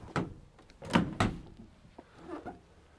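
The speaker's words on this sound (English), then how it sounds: "doors open 180 degrees" Rear doors of a 2015 Ford Transit Custom 2.2 TDCi Limited van swinging open, heard as a few soft thunks and latch clicks, close and fairly quiet, with a small rattle toward the end.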